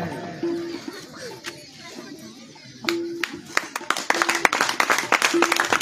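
Scattered clapping from an audience at a Ramlila lucky draw, starting sparse and thickening into uneven applause, with chatter and outdoor background noise.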